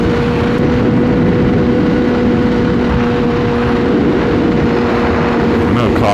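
A motorcycle engine pulls hard in third gear, a loud steady drone under heavy wind rush at the microphone.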